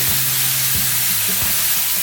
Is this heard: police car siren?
no